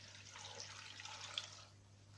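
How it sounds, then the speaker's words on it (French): Faint tap water runs in a soft, steady stream over a low constant hum in a kitchen, with no voices. "L'eau du robinet, elle est bien ici."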